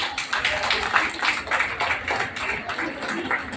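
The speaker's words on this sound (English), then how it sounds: "Let's give them a well-deserved round of applause." An audience claps at an alumnae reunion, a dense patter of many hands that is moderately loud and sustained throughout.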